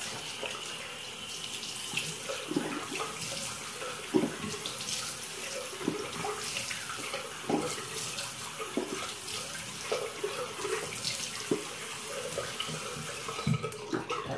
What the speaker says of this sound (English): I'm gonna wash my face off really fast